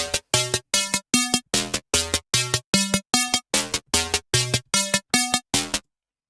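Square-wave arpeggiator synth pattern repeating short, bright, buzzy stabs in a steady gated rhythm, about fifteen pulses cycling through a few pitches before stopping cleanly, with no voices.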